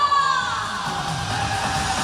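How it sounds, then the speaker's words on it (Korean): A crowd at a trot singer's performance during a village heads' workshop in Eumseong County cheers and shouts in a steady, loud roar lasting throughout, with no distinct claps standing out. "여러분들의 박수와 함성 한번 들어볼까요?"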